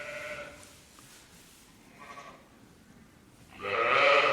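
A ewe in labour bleats three times alone: a short call at the start, a fainter one midway, and a longer, louder bleat at the end.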